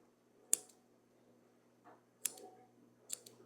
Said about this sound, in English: I'm just going to snip each of these this way.